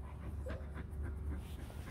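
A H'Mong bobtail dog pants close up, with quick rhythmic breaths and faint throaty whines, fairly quiet and steady.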